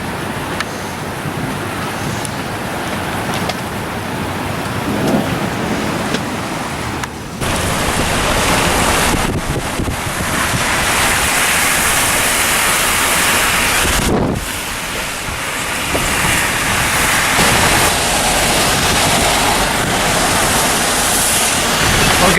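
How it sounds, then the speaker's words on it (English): Floodwater rushes loudly after a storm with marble-sized hail, a dense, steady roar like a torrent that dips briefly before surging again, close and continuous with no talking. "The aftermath of the storm, we had major flash flooding and marble-sized hail."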